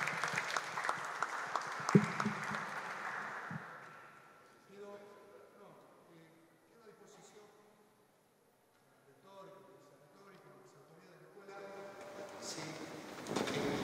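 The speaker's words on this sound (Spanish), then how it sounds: "agradezcámosle al senador con un aplauso" Applause for a senator at a school event in Buenos Aires, loud at first and fading after a few seconds, followed by someone speaking quietly until the clapping returns near the end.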